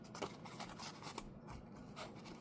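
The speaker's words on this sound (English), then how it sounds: "If you hold your scissors right up against that cardstock," Scissors snip through cardstock in a few short, crisp cuts with soft rasping between them, close and fairly quiet.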